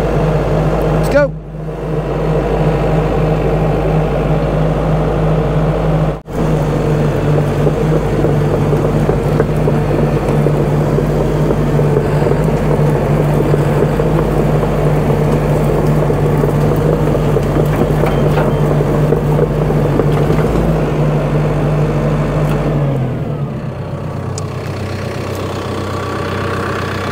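A Caterpillar D5 bulldozer's diesel engine runs at a steady, loud idle close by for most of the stretch, then winds down near the end, with a person talking over it.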